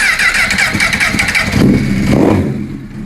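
A rebuilt Honda CBR600RR sport motorcycle with a custom exhaust starts up and revs hard, then settles into a loud, close idle, heard alone with no talk.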